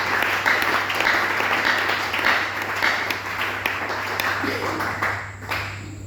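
A church congregation applauding, with dense sustained clapping from a crowd in a reverberant hall and voices mixed in, fading slightly near the end.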